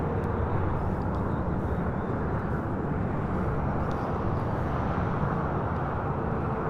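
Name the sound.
Delta airliner landing on runway 25 left at LAX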